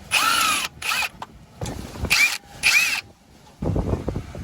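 A power tool spins out two 12mm bracket bolts holding a brake line and a sensor on a 2003 Subaru WRX, in loud, close whirring bursts separated by short pauses.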